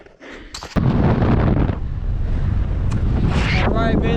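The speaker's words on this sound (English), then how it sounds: "It is cold and windy up here" Strong, cold wind at the top of Broken Hand Pass on a Colorado mountain buffets the microphone with a constant low roar and gusty rumbling, loud and close, with brief faint rustling at the start.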